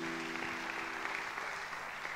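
A church congregation applauding together, steady dense clapping held at an even level throughout, with a low sustained tone underneath.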